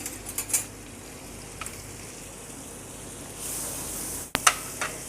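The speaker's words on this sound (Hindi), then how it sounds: "पैन में बटर ऐड करते हैं, इसको भी मेल्ट कर लेते हैं।" Butter melting in a hot pan, a soft, steady sizzle broken by a few light clinks of utensils and a brief louder spatter near the end, with no talk.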